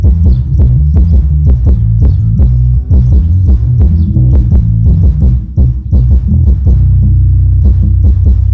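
A 350-watt plywood speaker cabinet plays a bass test, loud, deep throbbing thumps in a steady rhythmic pattern of heavy low-end pulses continuing throughout, with no talking.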